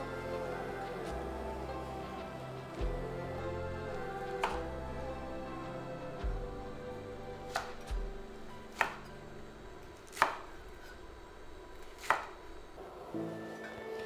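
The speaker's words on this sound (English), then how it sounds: "Next, we will cut up the garlic. And then we can cut up the green onions." Knife chopping garlic and then green onions on a cutting board while making Taiwanese beef noodle soup: sparse sharp thwacks grow more frequent toward the end, heard under background music without speech.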